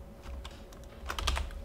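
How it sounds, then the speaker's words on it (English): Keys on a computer keyboard are tapped in a quick, close burst of clicks, growing busier toward the end, with no one talking. "let me just type anything here."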